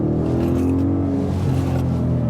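Ford Mustang GT with a 5.0 V8 and Akrapovic exhaust, a steady loud deep engine drone holding close by without a break, with no talk over it.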